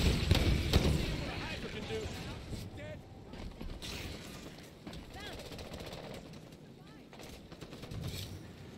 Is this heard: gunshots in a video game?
yes